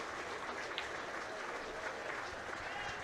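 An audience at a pool tournament in Las Vegas applauding the winner, steady distant clapping from a crowd throughout, with faint voices underneath.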